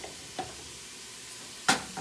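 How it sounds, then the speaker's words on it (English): Ground meat frying in oil in a pan for a lasagne sauce, a low sizzle punctuated by a few sharp stirring scrapes and clacks, one louder near the end. "So we're gonna add our oil first. And now we're gonna go ahead and add our meat."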